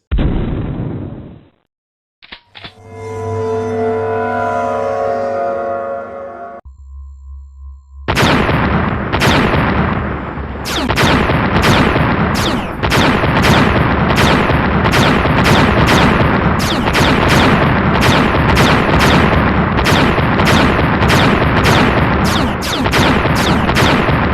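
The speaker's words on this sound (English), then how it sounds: "Now back to the space station and shoot those asteroids." Green laser blasts fired at asteroids in the VR game VRChem, a dense rapid run of sharp zapping shots repeating steadily after an opening electronic tone, loud and continuous with no talk.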